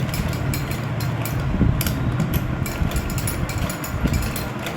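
Sewing machine stitching cloth beneath buckram on a shirt cuff, a steady mechanical whirring and rattling of the needle mechanism that runs close and loud throughout with no talking.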